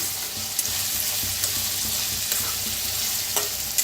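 Peanuts dry-roasting in a pan on the stove, with a steady soft rustle and sizzle and occasional scraping stirs, heard alone at close range.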